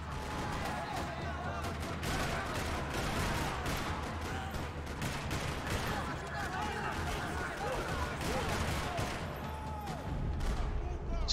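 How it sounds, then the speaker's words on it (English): Gunfire in the video game Max Payne 3, rapid bursts of shots and impacts in dense succession under a player talking, with a continuous loud clattering texture throughout. "Gunfire."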